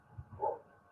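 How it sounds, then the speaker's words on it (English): A single dog barks at a distance from indoors, one short bark followed by a brief soft yelp, fairly faint against a quiet room, with no voices. "That's a dog barking"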